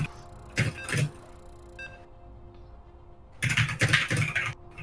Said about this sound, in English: Move keyboard back to proper position.